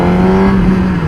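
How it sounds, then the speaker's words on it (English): Motorcycle engine held at raised revs in second gear while the rider works the clutch, a steady close droning hum with a constant pitch and no speech over it. "Let me get the RPMs up here a little bit."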